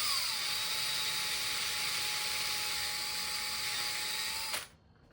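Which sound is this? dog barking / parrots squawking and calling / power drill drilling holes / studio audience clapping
power drill drilling holes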